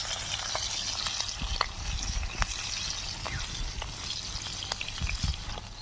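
Fish fries in a little oil in a wok over a hot, blazing wood fire outdoors in the Sundarbans. A constant soft sizzle is dotted with light pops and crackles, with no talking.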